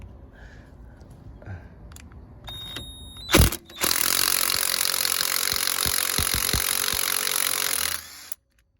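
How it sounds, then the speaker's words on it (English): A cordless impact driver spins off the nut on a rear drop link of a 2010 Chevrolet Captiva 4x4, a single loud sustained burst of close whirring and hammering lasting several seconds after a few light clicks, then cutting off abruptly. "Now I'm just going to use my impact driver because it's easy."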